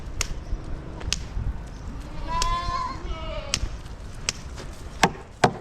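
A few goats bleat in wavering calls amid outdoor rustle and sharp knocks on a commercial goat farm, with a large herd nearby and a person talking.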